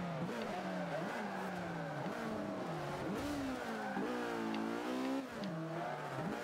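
Race car engine revving hard and shifting through gears in Forza Motorsport 5 at Silverstone, loud and continuous with rising and falling pitch sweeps and brief tire squeal.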